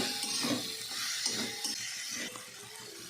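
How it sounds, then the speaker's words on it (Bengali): Chopped vegetables, spring onion and a medium tomato with cumin frying in a pan while being stirred: a steady close sizzle with soft scraping and stirring strokes, no talk. "আবার মিশিয়ে কিছুক্ষণ আমি ভেজে নিচ্ছি"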